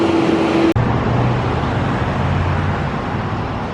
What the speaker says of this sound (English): And always a truck to make so much noise.